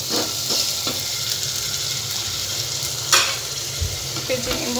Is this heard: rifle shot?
no